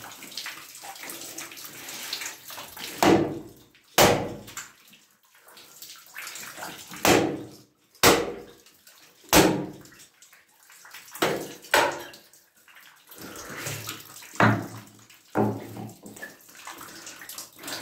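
Water from a toilet flush runs and gurgles through pipes under a house during collector replacement work, surging and fading in repeated rushing bursts with quiet gaps between them.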